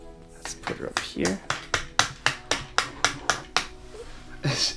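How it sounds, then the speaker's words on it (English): Knocking on the door of a toy My Little Pony Golden Oak Library playset: about a dozen quick, sharp raps in an even rhythm, close and clear, with a voice speaking before and after. "Is she knocking the door?"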